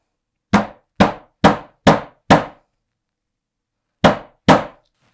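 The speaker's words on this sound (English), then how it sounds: "So, you're going to place your punch, take your mallet," Seven sharp mallet strikes on a metal hole punch driving a rivet hole through bag material, five in a quick even run, then a pause and two more, loud and close with no talking.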